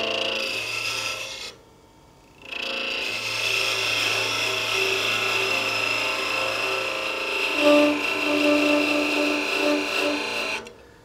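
Wood on a lathe being parted off for a candle holder: a continuous close rasping, scraping cut over the spinning piece, pausing briefly near the start, then resuming steadily with a faint motor hum underneath.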